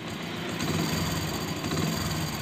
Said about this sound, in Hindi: बाइक को स्टार्ट करते हैं, देखो बाइक स्टार्ट हो गई है